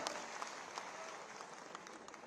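A crowd at a civic gathering in Ghaziabad gives sustained applause to welcome a Lok Sabha candidate, with steady dense clapping and scattered sharper claps, heard from a moderate distance with no talk.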